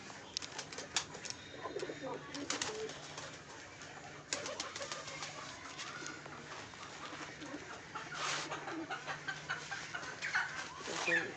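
Pigeons murmur and coo in a loft, steady low warbling calls running throughout, with occasional wing flaps and clucky bird noises around them at moderate distance.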